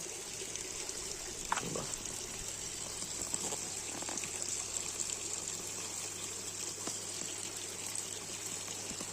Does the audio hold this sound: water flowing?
yes